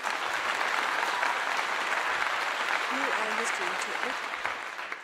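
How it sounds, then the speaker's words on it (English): Steady applause from a crowd fills the whole stretch, dense and fairly distant, tapering slightly at the end, with a voice speaking partway through. "Clap to you."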